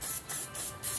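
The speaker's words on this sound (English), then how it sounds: "It's good to spray that rotor off." Brake cleaner sprays onto a new rear brake rotor from a 2011 Nissan Altima in three short, close, hissing bursts separated by brief pauses, with no talk.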